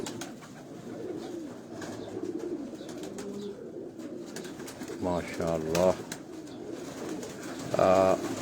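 Pigeons coo on a rooftop in Karachi, two clear bursts of throaty cooing rising near the middle and end over a low background murmur, with someone speaking softly nearby.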